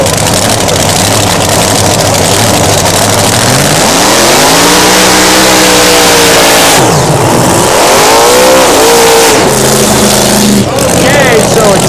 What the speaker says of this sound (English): 1940 Willie with a big Chrysler Hemi supercharged engine for the power.